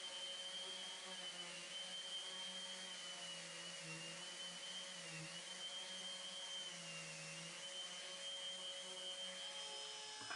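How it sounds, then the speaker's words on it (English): An orbital sander works over solid maple king-size bed parts, its steady high whine and broadband hum running continuously and close, with slight shifts in pitch as pressure changes. "I used my orbital sander and just went across both sides, get everything nice and smooth all the way down to 220 grit"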